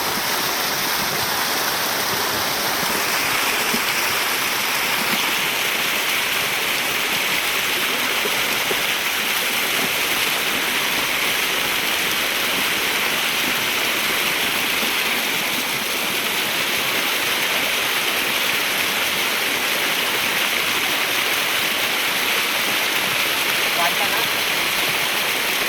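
Water rushing hard over rocks in a stream near Lonavala, a loud, steady, broad roar like a small waterfall that keeps going without a break, with people talking faintly underneath.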